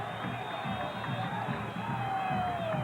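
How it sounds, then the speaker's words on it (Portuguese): A football stadium crowd boos during a 1992 Brazilian championship match between Bragantino and Vasco, a steady, distant massed roar that holds throughout under a commentator's voice. "E tome vaia."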